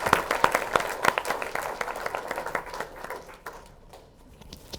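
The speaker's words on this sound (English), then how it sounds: "Can everyone please give our last finalist a round of applause" A small crowd applauds, brisk clapping that is strongest at the start and gradually thins out and fades.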